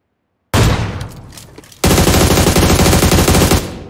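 Automatic gunfire from PUBG Mobile bursts in loud, then a second, denser volley of rapid shots rattles continuously for nearly two seconds before trailing off.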